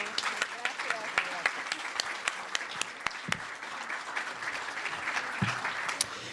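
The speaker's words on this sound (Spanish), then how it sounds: "Les damos un aplauso, por favor." Applause from the audience at a public electoral forum, moderately loud, with individual hand claps standing out above the steady patter and some murmured voices underneath.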